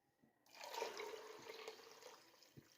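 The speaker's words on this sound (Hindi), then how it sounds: "1 लीटर हम लोग पानी डाल देंगे।" About a litre of water is poured onto chana dal lentils in a pressure cooker, a sudden close splashing gush that starts after a brief quiet moment and continues steadily to the end.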